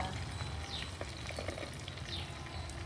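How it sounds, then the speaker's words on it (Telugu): Cumin seeds frying in oil for a long beans curry give a steady, fine sizzle with small crackling pops throughout, moderately close and without talk. "జీలకర్ర ఇప్పుడు ఫ్రై అయ్యాక"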